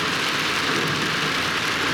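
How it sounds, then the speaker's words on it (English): Steady rain falls on a bush campsite, a dense, even patter close by with a low rumble underneath, continuous and without any voices. "It's starting to rain again, so I might have to move this camera."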